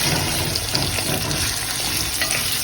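Seasoning and onions for beef liver sauté in a hot pan with a steady, close crackling sizzle that continues evenly throughout, with no voices.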